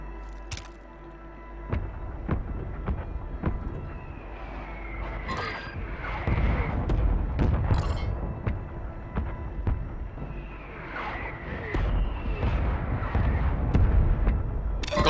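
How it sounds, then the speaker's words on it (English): A friendly mortar strike rains down in a Call of Duty battle, a series of heavy booming explosions and sharp blasts of varying distance crashing irregularly amid gunfire over a rumbling background. "Friendly mortar strike on the way."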